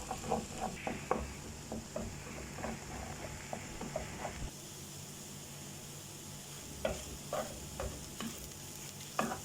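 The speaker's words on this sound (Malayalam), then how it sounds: "എന്നിട്ട് നമ്മുടെ മുട്ട നല്ലപോലെ ഒന്ന് ചിക്കി കൊടുക്കാം" Eggs seasoned with black pepper are scrambled in a frying pan among vegetables for a thoran, with a low sizzle under repeated soft scraping spatula strokes, fairly quiet and close.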